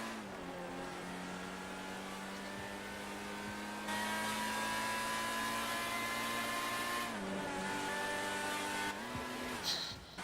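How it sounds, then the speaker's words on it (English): A V12 supercar in GTA 5 drives at speed, its engine holding a steady high-revving drone that climbs in pitch through gear changes, loud and close, with no voices. "God, I love the sound of a V12."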